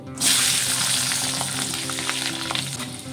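Whole garlic cloves and nigella seeds dropped into hot oil left from frying fish, bursting into a loud, close, hissing sizzle that holds steady with occasional stirring pops.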